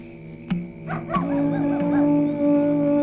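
Dogs bark and howl at night, with a few sharp barks followed by drawn-out whimpering howls, moderately distant and alone.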